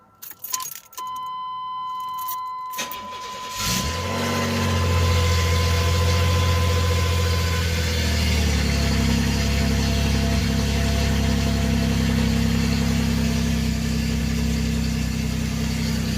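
Keys jangle before a 1989 Chevy Celebrity with a 2.8 V6, left sitting for two weeks, cranks and starts, then settles into a steady, close, rumbling idle that continues to the end.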